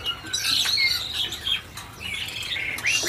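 Caged birds at a kiosk in the Pramuka bird market, shrill squawks and high chirps overlapping close by in bursts, with a faint flutter of wings and no voices.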